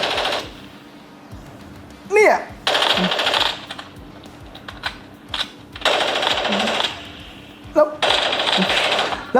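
Gunfire in a mobile shooter game played on a realme 12 Pro+ phone, several rapid automatic bursts with brief gaps and small clicking sounds between them.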